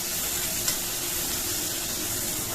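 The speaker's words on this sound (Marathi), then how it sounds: "सगळं व्यवस्थित परतून घ्यायचं बघा, छान असं।" Tomato and green chili chutney sautéing in a pan for a bottle gourd curry; a steady, close, hissing sizzle runs throughout with one faint tap, no talk.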